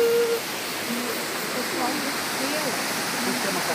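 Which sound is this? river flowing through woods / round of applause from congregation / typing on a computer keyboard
river flowing through woods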